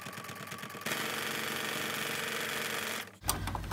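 A sewing machine stitches a quilted project bag with batting in a steady, loud continuous whir for most of the span, stopping abruptly near the end as handling noises follow.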